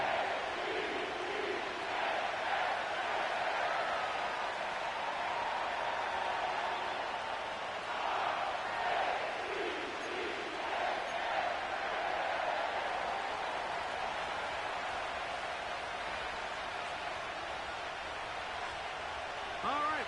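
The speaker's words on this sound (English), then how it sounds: "The crowd is definitely ready." A steady, dense roar from a stadium crowd at M&T Bank Stadium in Baltimore fills an EA Sports NFL video game broadcast, with a commentator's voice laid over the continuous murmur.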